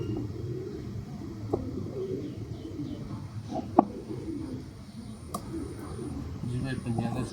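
Sialkoti pigeons coo softly in a low, rolling murmur, joined by scattered chirps and a sharp tap or two, heard close with a faint ambient hum behind them.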